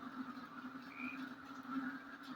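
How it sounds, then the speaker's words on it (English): Many bullfrogs croak at night in a desert oasis, forming a faint, continuous pulsing chorus at a distance. "that sound you hear in the background, those are bullfrogs."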